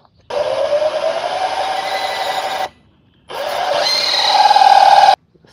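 A power drill bores a quarter-inch-deep hole in a box during a solar panel installation on an expedition vehicle, with two close, loud whining bursts separated by a brief pause, the second rising in pitch as it bites.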